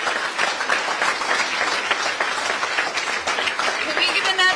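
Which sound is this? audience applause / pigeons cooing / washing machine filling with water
audience applause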